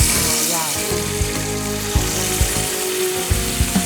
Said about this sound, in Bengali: আমি আমাদের রাঁধুনি প্রিমিয়াম ঘি 1 টেবিল স্পুন অ্যাড করবো। ওকে, একটু শ্যালো ফ্রাই করে নেব।